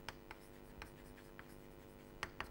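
Chalk or marker strokes writing a logic formula on a board, a scattering of separate scratchy taps and short strokes at an uneven pace, fairly faint and close.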